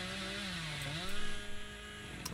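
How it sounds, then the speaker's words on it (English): A chainsaw revving in Dead by Daylight, wielded by the killer Billy: a steady buzzing engine drone with a pitch that dips and rises, then swells louder as it revs hard near the end, continuous and close. "I'm going to chainsaw across the map."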